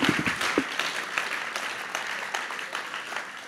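Applause from the audience at an evening Christian men's gathering, a dense, steady wash of hand claps with a few distinct sharp claps at the start, sustained at an even level throughout.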